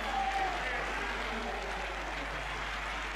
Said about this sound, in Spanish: Llega el momento de los aplausos